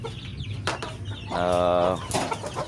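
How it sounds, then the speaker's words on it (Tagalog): A Joloano breed hen gives a drawn-out, harmonic cackle amid scattered short clucks and farmyard noise, close by and moderately loud. "Malaki yung tandang at malaki din po yung dalawang inahin."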